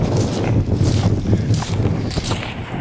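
Breezy wind buffeting on West Bay beach on a September morning, a steady loud rumble with gusty microphone noise throughout and no one speaking.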